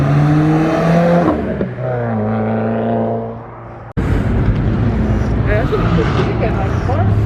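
A turbocharged car engine at a car meet revs loudly up close, rising in pitch and then dropping away as the throttle eases, before a burst of broader engine noise and crowd sound follows.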